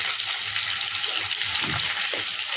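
Potatoes fry in a pan with salt and turmeric, giving a loud, continuous hiss and sizzle that runs steadily throughout without speech.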